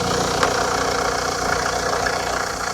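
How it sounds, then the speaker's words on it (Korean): A used Kia Carnival's diesel engine idles with a steady, droning resonance and a faint knocking texture, close and continuous, with no voices. "디젤 엔진의 특유의 공명음, 요거 다시 한번 들려드릴게요."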